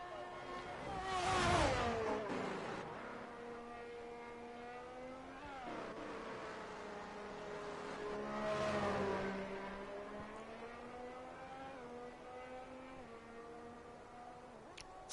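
A Formula One car from a racing game pulling slowly out of the pits, its engine whine rising and falling through gear changes, steady and moderately loud with no talk.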